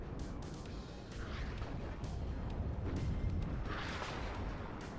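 Missiles land and explode in the real-time strategy game WARNO, a dense, continuous rumble of distant blasts and booms rolling over one another for several seconds without a break.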